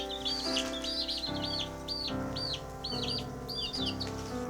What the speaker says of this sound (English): These chicks are Cornish cross.